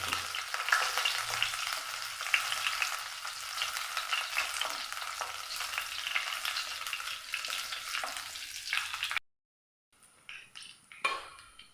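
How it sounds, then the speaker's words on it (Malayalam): Ginger and curry leaves sizzle in hot oil in a pan, a dense, steady frying hiss for about nine seconds, then it cuts off to near silence broken by a few soft metallic clinks. "നല്ല പോലെ ഒന്ന് മൂപ്പിച്ചെടുക്കാം"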